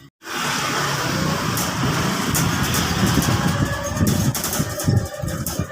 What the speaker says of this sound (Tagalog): Ayan na, ang truck, ang basura.